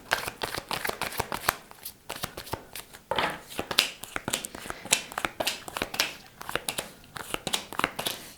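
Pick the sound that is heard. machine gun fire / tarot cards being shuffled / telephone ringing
tarot cards being shuffled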